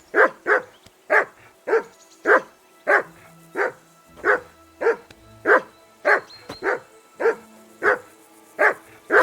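A dog in the medieval role-playing game Kingdom Come: Deliverance II barks steadily and loudly, about fifteen sharp, evenly spaced barks in a row with no one talking over them.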